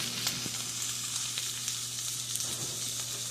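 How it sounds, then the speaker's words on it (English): Steady sizzling of a chicken and cheese sandwich frying in a pan, a continuous crackling hiss with a low hum underneath, no voices. "While that all cooks and sizzles"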